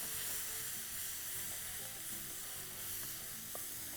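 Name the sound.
stirring chili and turmeric powder into frying mixture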